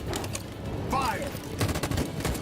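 A squad opening fire in the video game Detroit Become Human: loud rapid bursts of automatic gunfire crackling close by, with a sharp tonal sweep mid-burst and a second heavier volley near the end.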